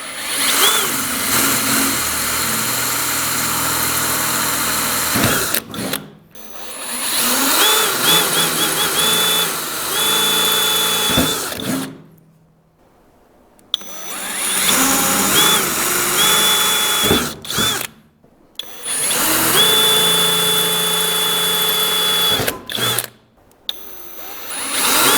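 A power drill bores pilot holes through a custom firewall while a Chevy Astro Hydroboost is being mounted. It comes as three loud sustained whirring bursts, each several seconds long, broken by short pauses of near silence.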